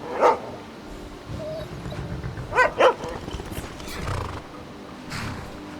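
A dog barking in the game Skyrim, with a few sharp close barks in separate bursts, set against hoofbeats, horse sounds and soft background game noise.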